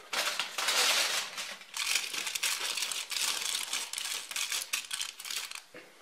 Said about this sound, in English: So now place a tin foil on the right side of the rack